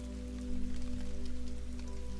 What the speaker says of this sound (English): It's a rainy day here in Pennsylvania, so not a lot going on.